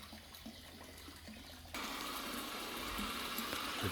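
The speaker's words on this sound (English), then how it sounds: "I'll get the hose on now to suck the water out." Water rushes steadily through a garden hose being used to suck dirty water out of a swimming pool, a close hissing gush that swells louder partway through.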